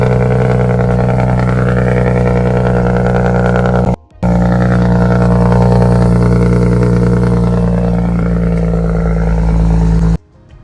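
BMW 335i with a swapped N54 single-turbo engine idles steadily and loudly with a low, lumpy drone, a brief cut near four seconds, then runs on evenly to the end.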